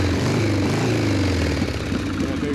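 A 1971 Harley Shovelhead rigid rat rod motorcycle idling nearby, with a loud, steady, low, lumpy engine rumble running throughout.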